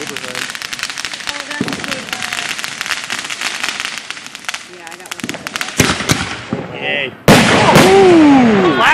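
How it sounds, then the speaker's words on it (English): A flashbang grenade goes off in a video game with a loud burst, then a high ringing tone under frantic player talk, amid crackling bangs like fireworks. "Flashbang! Can't see!"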